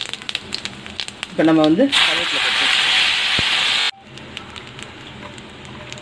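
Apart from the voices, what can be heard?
mustard and cumin seeds spluttering in hot oil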